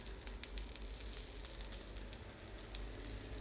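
A salmon steak searing in a pan over medium heat gives off a steady, close, fairly quiet sizzle with fine crackling pops throughout, and nobody speaks.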